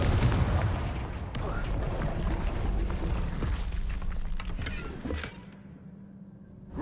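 Confringo fire spell blast in the Hogwarts Legacy video game, a loud, dense burst of rumbling booms and crackling debris lasting several seconds before tapering into a quieter hiss.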